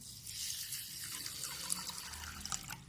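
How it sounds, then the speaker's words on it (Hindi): Water runs in a soft, steady trickle as it is poured over 150 grams of rice set to soak for kheer, faint and close with small splashy bursts. "पानी डालेंगे इसमें।"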